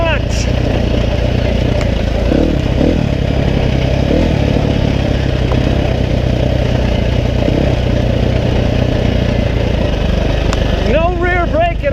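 KTM dirt bike on a trail engine running loud and close in first gear as the clutch is released, steady buzzing revs with a rider's voice over the top.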